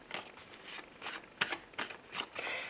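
Tarot cards being shuffled for a reading, a series of soft crisp riffling bursts close to the microphone, quiet and without talk.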